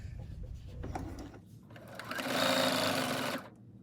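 A sewing machine stitches down a quilt binding toward a corner, first running softly and then building to a loud, close, steady whir before stopping abruptly.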